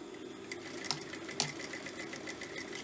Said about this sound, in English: I'm going to sew across one end